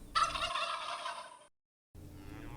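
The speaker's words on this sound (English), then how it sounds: "turkey." A turkey gobbles, a loud rapid warbling burst lasting over a second, close and alone, followed by silence and then quieter background.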